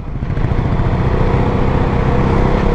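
Exhaust of a KTM Duke 390 motorcycle, a steady, loud, close engine rumble with no change in pitch and no pauses.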